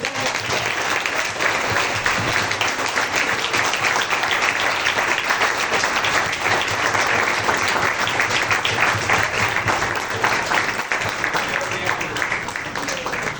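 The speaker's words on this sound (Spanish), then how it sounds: "Y yo quiero que le demos un aplauso a Cristo." A church congregation applauds steadily and densely for a sustained stretch, a broad wash of many hands clapping at an even, loud level throughout.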